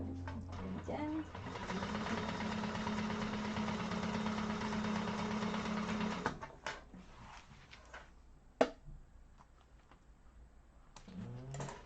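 Sewing machine top stitching a hobo bag, running steadily and close for about six seconds, then stopping to leave quieter handling clicks and a sharp knock.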